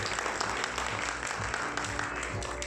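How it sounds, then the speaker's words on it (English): A crowd applauds steadily, a dense wash of clapping filling the whole moment at fairly even loudness. "Please give a big round of applause for the people."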